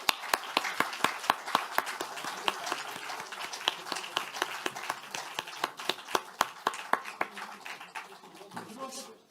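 Scattered claps from a small group at a People Power Party floor leader election event, with sharp, distinct hand claps spread unevenly across the whole stretch at moderate loudness and no voices over them.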